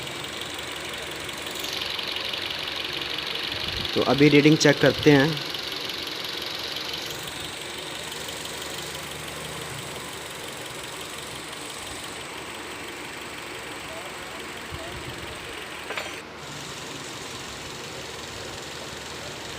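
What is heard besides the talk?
Toyota Corolla engine idling after starting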